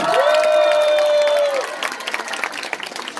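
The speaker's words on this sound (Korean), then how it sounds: "박수 한번 주세요" Audience at a live Korean pumba folk-performance show claps and cheers for a performer being introduced, dense applause rising under a sustained tonal wail for about a second and a half, then thinning into scattered clapping.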